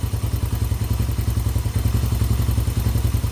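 A Hawk 250 Enduro motorcycle engine runs nearby at a steady idle, throbbing in a fast, even rhythm with mechanical clatter, loud and alone without talk.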